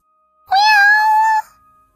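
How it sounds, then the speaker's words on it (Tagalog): A white cat gives a single clear, sustained meow, about a second long, as a sound effect in a narrated story, heard alone against silence. "Isang puting pusa."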